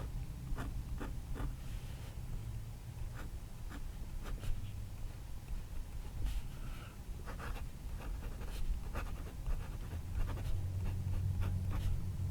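A PenBBS fountain pen with a #13 nib scratching across paper in soft, quiet strokes with short, irregular pauses, set against a low background hum and no talking.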